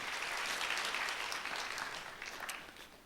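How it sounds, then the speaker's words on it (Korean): A church congregation at a youth worship service claps together in a dense, sustained round of applause that fills the room, then gradually thins and fades toward the end. "하나님께 영광의 박수 올려드리겠습니다."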